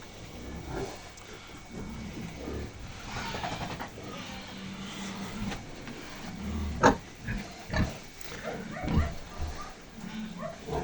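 Soft, low grunts and snuffling from two-week-old piglets, with a few sharper squeals near the end, fairly close over a murmuring background.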